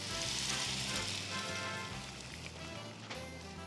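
Gingerbread pancake batter sizzles steadily in a hot buttered pan, a dense continuous crackle with faint low hum underneath and no talking.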